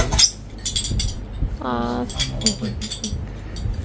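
Cups and spoons clink and knock together in a home kitchen, with short bright chinks and one ringing tone while people talk over them.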